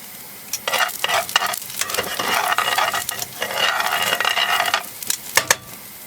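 Garlic frying in a pan at a campsite, a lively sizzle broken by repeated close scraping and stirring strokes of a utensil against the pan.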